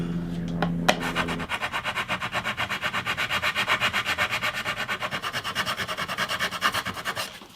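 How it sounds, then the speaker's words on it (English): A machine sander works on the wood of an electric guitar body, a steady rhythmic rasping pulse that repeats quickly and stays close and fairly loud. A hum and a sharp knock come just before it starts. "I'll just do that on the sander."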